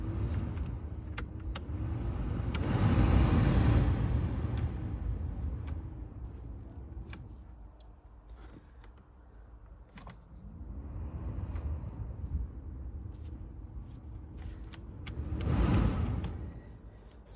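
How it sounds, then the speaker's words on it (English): A VW Golf heater blower fan runs steadily with a broad whoosh that rises and falls in strength, swelling loud around three seconds and again near the end, with faint clicks and mechanical rattles over the airflow. "So just first gonna test the blower."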